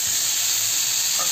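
Soybean chunks, potato and pointed gourd frying with chopped onion in a pan, a close, steady hiss of sizzling oil filling the whole moment with no talk.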